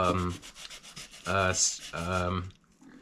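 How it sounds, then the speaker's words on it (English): A scalpel blade is stroked along a coarse 600-grit sharpening stone in three separate rubbing passes, each with a thin whining edge, close and fairly quiet. "you work those bevels, especially right behind the edge"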